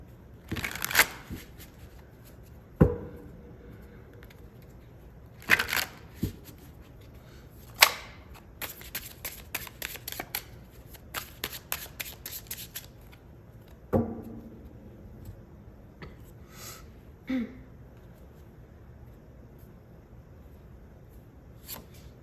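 Tarot cards are shuffled in several separate bursts of quick riffling and flicking, each a short crisp flurry of snapping card edges with quiet pauses between, close and fairly clear with no talking.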